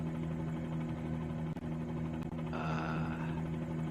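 Bell 47G helicopter engine in Microsoft Flight Simulator 2020, flown in VR over New York: a steady low rotor and engine drone, continuous and close, with a brief dip midway and no voices.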